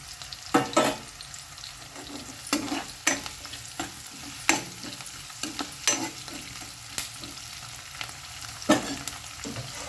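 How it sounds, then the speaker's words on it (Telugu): Green chillies and masala frying in a pan for fish curry, with repeated scraping stir strokes of a spoon against the pan over a low continuous sizzle, close and steady, with no talk. "ఇదిగోండి పచ్చిమిర్చి కూడా వేసుకుంటున్నా తర్వాత ఇదిగోండి మసాలాలు అన్ని మసాలాలు బగారాతో సహా అన్నీ వేసుకోవాలి"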